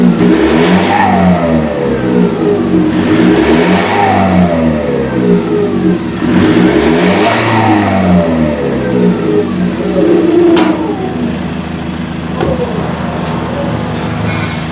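A Nissan Navara engine revs repeatedly through a side exit exhaust pipe, loud and close, each rev rising and falling in pitch in a regular rhythm before settling back toward a rumbling idle.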